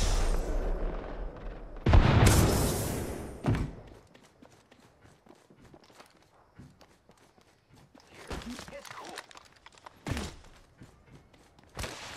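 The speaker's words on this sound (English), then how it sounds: "Chucking a frag grenade." A frag grenade in Apex Legends goes off with a loud, close blast that rumbles for a second, followed by quieter footsteps and scattered impacts, then another sharp burst near the end.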